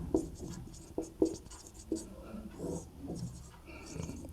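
Chalk or marker writing math on a classroom board, with short scratchy strokes and several sharp taps in an uneven rhythm, close by over faint room noise.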